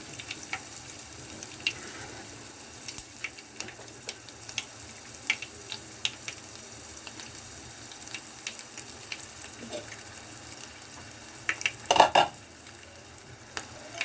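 Crushed garlic and a pinch of asafoetida fry in oil for gongura chutney, giving a faint, quiet sizzle broken by scattered stirring clicks and one louder scrape near the end. No one talks.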